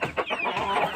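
Tiger-breed chickens cluck in short, close, overlapping calls inside a farm shed.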